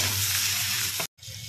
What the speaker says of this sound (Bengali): কড়াইতে দিয়ে দিচ্ছি 5 ফোড়ন, এখন দিয়ে দিচ্ছি পটলটা।